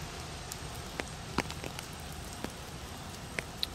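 Rain falls on an autumn day at a graveside, a soft steady patter with scattered individual drops tapping nearby, faint and without voices.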